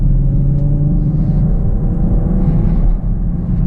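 A Camaro RS V6 1LE engine drones as a steady, close, low rumble while the car drives onto a busy highway, holding even throughout with no talk.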